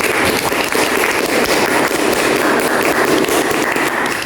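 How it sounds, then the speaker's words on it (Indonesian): A classroom audience at an Indonesian university Pancasila lesson applauds, a dense, loud, steady wash of many hands clapping for several seconds with no pauses. "Oke, kita kasih aplaus."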